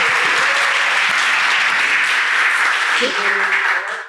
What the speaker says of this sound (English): big round of applause for Michael